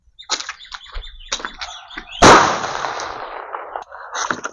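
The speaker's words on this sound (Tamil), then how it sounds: "ஸோ அடுத்து இந்த கன்னி வெடி வைக்கலாம் வாங்க" A kanni vedi, a small Sivakasi firecracker, bursts with one sharp, loud bang partway through, trailing into a fading crackle. Bird chirps and scattered clicks surround it before and after, with no talking.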